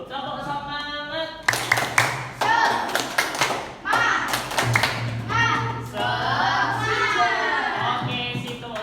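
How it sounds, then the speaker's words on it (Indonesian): Classroom of children doing a rhythmic spirit clap, a series of loud, sharp hand claps in quick patterned bursts, with an adult's voice and children's voices around the claps. "Kita tepuk semangat terlebih dulu."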